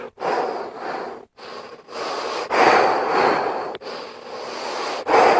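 Deep rhythmic breaths are pushed out in a steady train-like chugging pattern as a breathing exercise, close and loud, with short pauses between the strong whooshing bursts.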